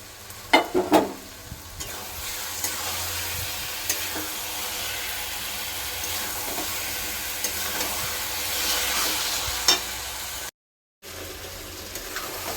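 Mudfish curry with potatoes sautéing in a pan, a continuous sizzle with scattered spoon scrapes and knocks as it is stirred, a burst of clatter at the start and a brief dropout near the end.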